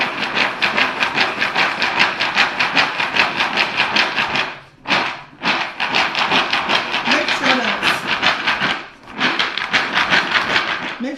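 Raw peanuts coated in flour are shaken hard in a container, making a fast, even rattling rhythm that keeps up steadily and stops briefly twice before carrying on.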